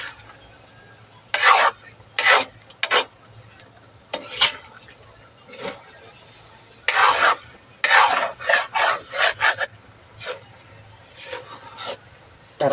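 Dried daing fish is stirred in a cooking pan for sinantol, giving intermittent bursts of scraping and rasping utensil strokes separated by short quiet pauses, with a faint sizzle beneath.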